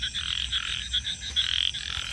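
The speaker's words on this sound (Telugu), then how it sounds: "కప్పల్ సౌండ్లు ఎక్కువగా ఉన్నాయి, భయంకరంగా వస్తున్నాయి సౌండ్స్." Frogs croak loudly and continuously at night in a muddy, rain-soaked area, a dense pulsing chorus of rapid trilling calls close by.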